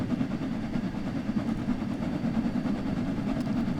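An LMS Class 6P steam locomotive in Train Sim World 4 idles with a soft, continuous low rumble and faint rhythmic hiss, quiet and steady with no speech.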